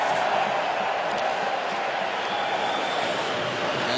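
A steady, loud roar of a packed hockey arena crowd during an NHL Blackhawks–Oilers game, a continuous wash of cheering and noise throughout.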